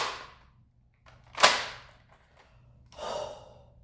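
Dart Zone Max Striker foam dart blaster firing, with a sharp, close snap after a soft priming sound, followed by a breathy rush.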